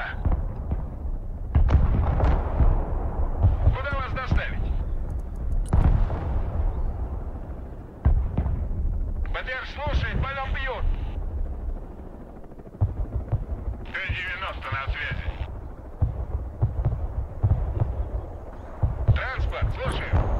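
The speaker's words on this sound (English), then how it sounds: "Artillery set in here." Artillery fire in the multiplayer war game Broken Arrow: repeated heavy booms and rumbling blasts at irregular intervals, loud and low, mixed under several players' voices talking throughout.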